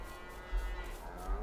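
Cattle mooing in the video game Farming Simulator 22, low and drawn out over a steady background of farm ambience, moderately faint.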